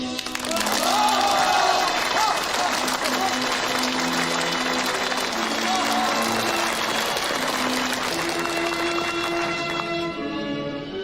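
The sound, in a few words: crowd cheering and applauding at Tiananmen Square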